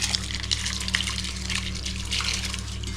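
Rice poured by hand into a pot of boiling salted water, making a steady, close rushing splash that holds at an even level for the whole stretch.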